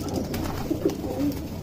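Madrasi pigeons coo softly in short, low repeated calls close by, over a faint background hum without speech.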